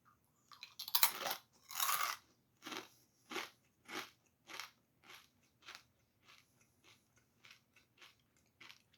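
Someone crunches a crispy kanikku snack up close, a dozen or so crackly bites and chews that start loud and fade steadily softer.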